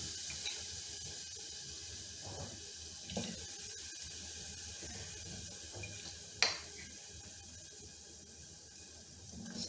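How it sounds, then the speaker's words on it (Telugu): Water pours steadily into a pan of jaggery, a soft, continuous trickling stream, with an occasional light clink of a cup against the pan and no one talking. "సో ఇప్పుడు వాటర్ కూడా నేను 3 కప్స్ పోసుకుంటున్నాను"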